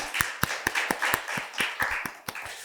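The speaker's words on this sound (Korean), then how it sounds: "우리 하나님께 영광의 박수 한번 돌립시다" A church congregation at a Wednesday worship service claps in a steady, even rhythm. The sharp claps come together at a moderate level, heard alone without speech.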